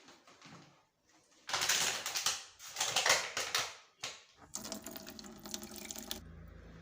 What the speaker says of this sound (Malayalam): ഇവിടെ വെള്ളം പോകുന്നുണ്ട്.